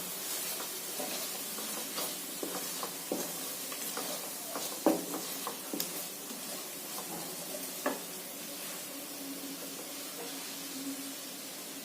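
Ground turmeric, chili, coriander and cumin fry in oil in a pan for a red chicken curry, giving a steady close sizzle broken by stirring scrapes and a few sharper clicks, with no talking.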